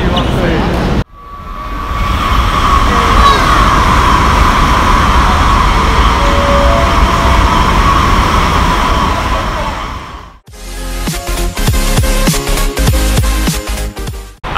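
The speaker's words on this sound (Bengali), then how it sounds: "এটা হচ্ছে আমার বুলেট ট্রেনের ফার্স্ট জার্নি।" Loud, steady rumble and whoosh of a Chinese bullet train running at speed, filling most of the stretch, then a short break before busier rattling, clattering interior noise takes over near the end.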